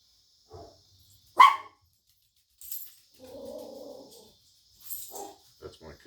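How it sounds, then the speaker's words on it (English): A dog gives a single sharp bark close by in a quiet room, followed by a few faint low sounds and some brief talk. "That's my Cujo dog."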